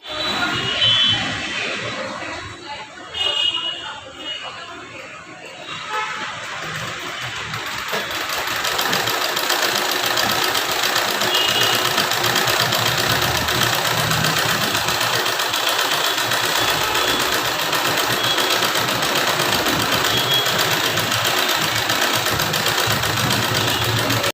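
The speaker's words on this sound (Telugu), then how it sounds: "మిషన్ని ఇప్పుడు నేను స్టిచ్ చేసి చూపిస్తాను చూడండి" A tailoring sewing machine runs for a long continuous stretch of stitching, a loud steady mechanical whir and rattle up close, following a few seconds of quieter handling noise.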